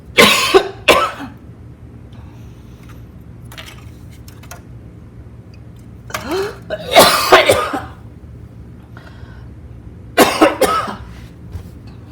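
Repeated bouts of loud, close coughing spread across the stretch, with quieter pauses between each fit.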